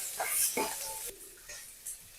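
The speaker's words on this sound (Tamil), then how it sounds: "வதங்கினோடனே தக்காளி போட்டுக்கிறேன்." Tomatoes tipped into a hot pan of frying green chilies and curry leaves, a brief soft sizzle with stirring scrapes, fairly quiet and close.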